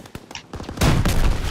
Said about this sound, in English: Double barrel shot.